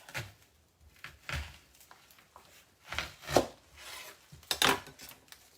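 Knife thinly slicing a large red onion on a board, a handful of soft irregular cutting knocks, close but faint, with no talk.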